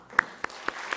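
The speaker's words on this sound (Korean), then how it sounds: "우리 잘 가시라고 박수로" Farewell applause from a Korean church congregation at a Sunday service, heard as a few sharp claps spaced across a second over a soft room murmur rather than a full sustained ovation.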